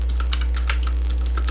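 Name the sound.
typing a gcc compile command on a computer keyboard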